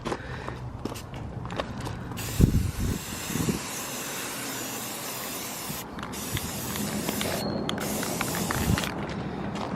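Cherry red spray paint hisses from an aerosol can onto motorcycle pegs in steady close bursts, with a few brief pauses and light handling knocks between passes.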